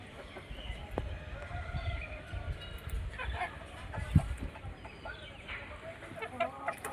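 Desi chickens kept on a rooftop, clucking and cackling close by with scattered calls and some background rustle, one sharp squawk standing out near the middle.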